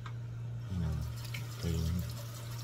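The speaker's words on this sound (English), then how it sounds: "So I'm gonna wash this and" Galunggong fish rinsed under a running kitchen tap, a steady hum of flowing water with two brief louder splashing surges as the fish is moved under the stream.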